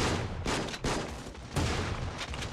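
Loud repeated bursts of gunfire from the shooter game Creative Destruction, three heavy volleys in quick succession with sustained rattling between them.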